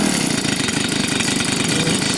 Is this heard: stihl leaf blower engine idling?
yes